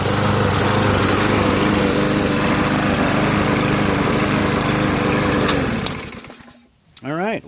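Yard Machines MTD 6.75 push lawn mower engine running in Jamaica: a loud, steady close-up drone that cuts out near the end, leaving a short wind-down and a brief voice.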